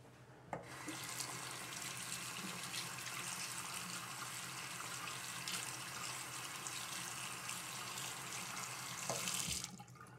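A tap runs steadily into a sink for several seconds, wetting a synthetic-fibre shaving brush for a wet shave with a double edge safety razor, a close, continuous rush of water that stops near the end.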